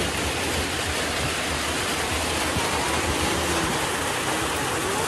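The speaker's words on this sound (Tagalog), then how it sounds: "Maulan na hapon, guys." Heavy afternoon rain falls in a constant roaring hiss, close and unbroken throughout, with a faint low rumble beneath.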